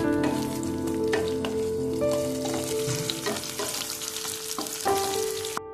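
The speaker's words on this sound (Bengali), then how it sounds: "পেঁয়াজটা একটু ভালো ভাজা হওয়ার জন্য একটু চিনি দিয়ে দিলাম" Sliced onions with a little sugar fry in a pan, a loud steady sizzle close by with occasional stirring scrapes and no speech, early in making cumin chicken curry.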